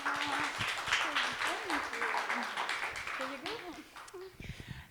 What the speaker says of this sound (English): So please give a round of applause to Arianna.